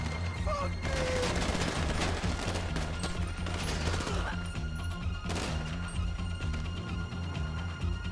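Rapid bursts of gunfire and clattering mechanical impacts from a Grand Theft Auto V heist firefight fill the mix, the shots clustering densely in the opening seconds and again near the five-second mark, with quieter stretches in between.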